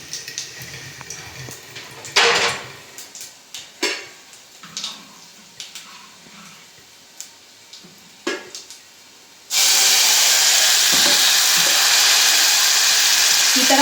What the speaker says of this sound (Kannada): ಈ ಥರ ಚರ್ರು ಅಂತೇಳಿ ಸೌಂಡ್ ಬಂದ್ರೇ ಸಾರು ಒಂಥರ ಟೇಸ್ಟ್ ಆಗ್ತೈತಿ.